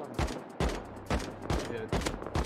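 Rapid AK rifle fire in the game Rust, five or six loud sharp shots spaced about half a second apart, close and punchy, with a faint voice in between.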